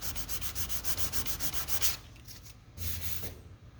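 Lacquer primer on a car body is block sanded after dent repair, with rapid rhythmic back-and-forth rubbing strokes up close, then a short pause before more slower strokes resume.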